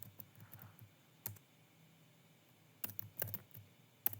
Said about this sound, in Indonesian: kita mengetik lagi di bagian komen